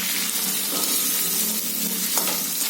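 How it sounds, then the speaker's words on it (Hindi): Cubed potatoes frying in oil for a prawn and potato dish: a loud, continuous sizzle with light stirring movements running through it. "आलू को भी मैंने क्यूब शेप में काट के रखा, इसको अब इसी तेल में डाल के फ्राई कर लेंगे।"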